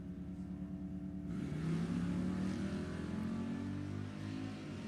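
An 1984 Mustang drag car runs down the strip at an NHRA Division 7 E.T. Finals, its engine droning steadily with a rising harmonic whine, loud and continuous throughout.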